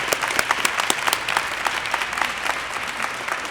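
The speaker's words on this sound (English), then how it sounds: "I'm just going to give him a round of applause." Round of applause at a press conference for an apprentice signing day, a short burst of steady clapping from a small crowd, close and lively, with no speech over it.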